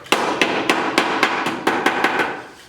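Steady rat-a-tat of a hammer tapping a hand-fabricated sheet metal downspout, about ten sharp, evenly spaced metallic strikes, close and loud, with no speech.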